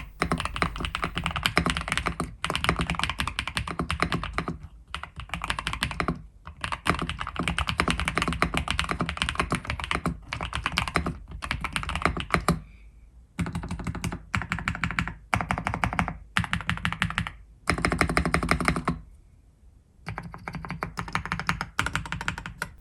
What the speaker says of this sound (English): And now for that all-important type test.